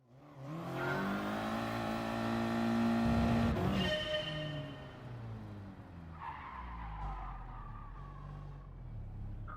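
A GT Sport race car revs hard through its gears with a rising engine whine and a squeal of tyres, then the engine drops to a low rumble while it rolls along the track. No one speaks.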